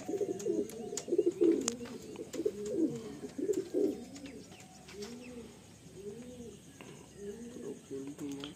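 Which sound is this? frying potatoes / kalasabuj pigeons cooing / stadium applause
kalasabuj pigeons cooing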